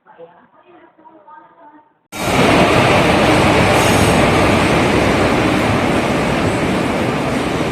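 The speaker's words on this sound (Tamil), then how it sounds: "இது வரைக்கும் 2 ட்ரெயின் கிராஸ் ஆயிடுச்சு. இது 3வது ட்ரெயினுங்க." A train roars loudly through Erode Junction station at midnight, a sudden heavy rumble of wheels and carriages bursting in after quieter background chatter and holding steady at close range.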